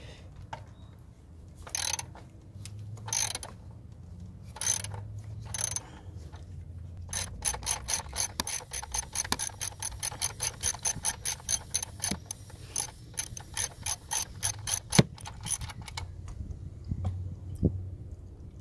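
Socket ratchet clicking while turning bolts on a 2014 Kia Cadenza during a PCV valve job, with fast bursts of sharp close pawl clicks in quick rhythmic runs and short pauses.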